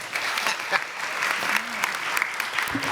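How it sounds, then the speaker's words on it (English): Applause from the audience at a radiography program pinning ceremony, a steady patter of many hands clapping at moderate level throughout, with a few murmured voices underneath. "I got one applause the first time"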